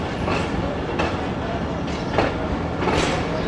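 A Safari passenger train on the Rawalpindi–Attock line rolls along the rails with a loud, steady rumble from inside the carriage. Periodic clacking bursts come from the wheels passing over rail joints.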